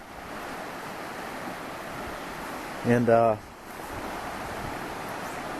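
A river swollen by heavy rain in Ecuador's Amazon rainforest rushes past as a steady broad roar of flowing water, with a single short spoken word cutting in briefly midway.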